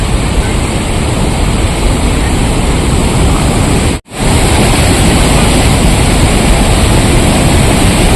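Water rushing over Majalgaon dam makes a loud, constant roar close by, steady for the whole stretch apart from one very brief dip in the middle.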